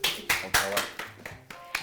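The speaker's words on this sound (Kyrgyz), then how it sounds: "Кол чабуулар." An audience bursts into clapping at a comedy show, sharp rhythmic claps repeating about every quarter second in a short close burst, with talk mixed underneath.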